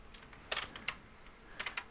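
Keys on a computer keyboard clatter in quick, light bursts as a command is typed, close and quiet, with short pauses between clusters of keystrokes.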